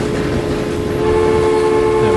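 A train runs in the video game Transport Fever 2, a steady rumble under a sustained horn-like tone.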